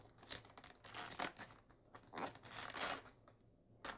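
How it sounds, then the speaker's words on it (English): A knife cuts and pries the core out of a cabbage, giving soft, close crunching and crinkling leaf sounds in irregular bursts, quiet and alone. "So next we'll be needing some cabbage leaves, and I'm going to cut out the core."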